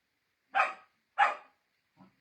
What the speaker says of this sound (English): That's Woody barking at Bugsy because she's not playing with him right now.